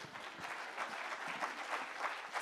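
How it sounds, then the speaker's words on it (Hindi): Audience applause at a women's leadership conclave poetry session, steady and dense clapping throughout, moderately distant and filling the room without speech on top. "तो आप ताली बजा सकते हैं"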